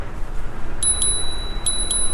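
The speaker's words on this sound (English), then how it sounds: "We're gonna use the bell." Two double rings of a small bell on a Hiboy S2 Max electric scooter, clear high pings spaced apart over steady riding and road noise while passing through a tunnel on a bike path.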